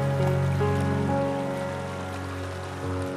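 Water sloshing and trickling around legs wading through cold water inside Hezekiah's Tunnel, the narrow rock-cut channel in Jerusalem's City of David, a steady close splashing with faint echo and no talking.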